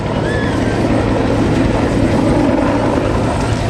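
A military helicopter fitted with an extended air-refueling probe departs during a mass helicopter departure at an air show, its rotor thudding loudly and steadily alongside turbine whine throughout.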